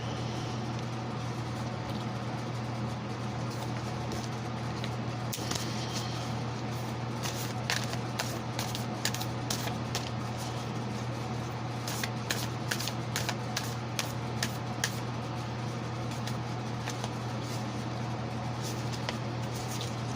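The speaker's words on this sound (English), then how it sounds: "me shuffle these real fast" Tarot cards are shuffled repeatedly in quick riffling bursts over a steady low hum, with no talking.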